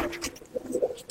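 Giribaz pigeons give soft, low coos in a brief burst under faint background noise.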